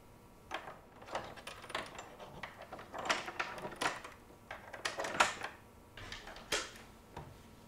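Metal rigging links on line-array speaker cabinets are disengaged and handled during de-rigging, giving faint scattered clinks, clicks and scrapes in an irregular rhythm with no talking.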